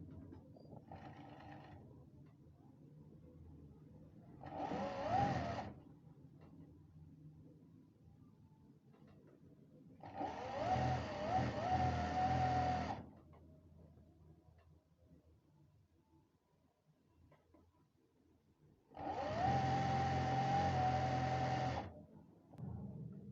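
Bursts of an electric sewing machine stitching the waistband of palazzo pants, three to four separate runs of a few seconds each with quiet gaps between.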